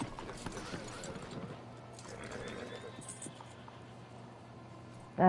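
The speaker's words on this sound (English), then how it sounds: "Let's hitch my horse." A horse in the video game Red Dead Redemption 2 clip-clops along with a neigh, its hooves fairly near, amid game sounds.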